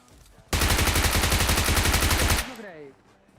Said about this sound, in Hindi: कोई वहां पे बैठ के गोली चला देता है